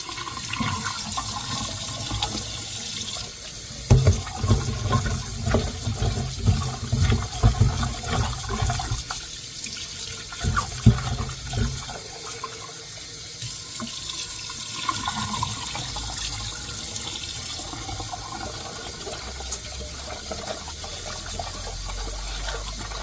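Chopped ingredients for a purple smoothie are rinsed under a running tap, a steady rush of water into a sink with bursts of splashing and handling, close and fairly loud throughout.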